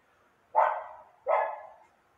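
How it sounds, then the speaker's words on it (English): Two sharp barks from a dog, spaced about a second apart, clear and fairly close against an otherwise silent background. "Barking a dog in the background."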